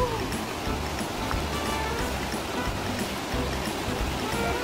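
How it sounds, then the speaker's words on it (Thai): Phran Ba waterfall pours in a steady, rushing wash of falling water. The roar is continuous and fairly even throughout, heard from a moderate distance with no other sounds standing out. "เห็นน้ำตกแล้วทุกคนน้ำยังเยอะอยู่เลย"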